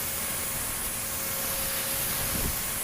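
Spray gun laying a coat of automotive primer on a car body panel, a steady, continuous broadband hiss of air and atomized paint running unbroken and close throughout.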